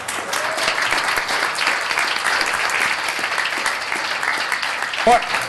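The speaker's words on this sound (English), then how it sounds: "Let's give a great applause to Mr." Applause from the audience at a Baldwin Park city council meeting, a steady, full round of clapping from the chamber that holds level throughout, with a brief bump of voice near the end.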